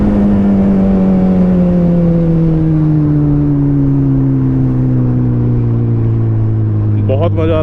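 Bajaj Pulsar N250 motorcycle engine while riding, a steady loud drone whose pitch falls slowly as the bike eases off, with a brief rattle near the end.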